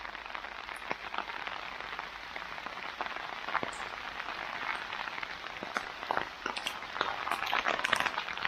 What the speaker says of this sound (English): And that is stupid rain.